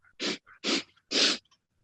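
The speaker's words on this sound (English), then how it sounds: "you'll hear me make this inhale" A voice performs a stair-step breath-control inhale: three loud, breathy sniffs close to the mic in quick succession, each airy burst separated by short pauses, with faint breath noise trailing after.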